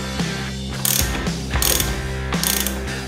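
Ratchet tightening the front axle nut on a Ducati Panigale V4 motorcycle, close and clear, with three quick bursts of ratcheting clicks over a low steady hum.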